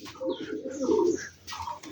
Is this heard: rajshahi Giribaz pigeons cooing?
yes